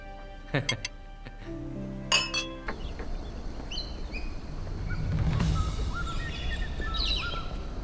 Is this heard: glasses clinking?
yes